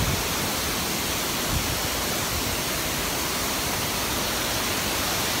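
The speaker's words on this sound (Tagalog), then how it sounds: "There's a big falls, my brother and sister." Vera Falls, a waterfall below the Mayon Skyline in Bicol, Philippines, roars as a dense, steady wash of rushing water, loud and unbroken for several seconds with no voices.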